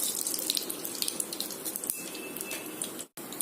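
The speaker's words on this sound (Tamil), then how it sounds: "பிறகு கடுகு வெடிக்குது, கடுகு வெடிச்சு விடுங்க." Mustard seeds spluttering in hot groundnut oil in a pressure cooker on a village stove, a dense close crackle and sizzle with scattered pops, cutting off abruptly near the end.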